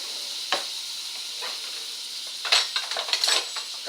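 Butter browning in a pan while fresh ravioli are made, giving a steady soft sizzle and hiss with a few sharp clinks of a spoon against the pan, growing busier toward the end.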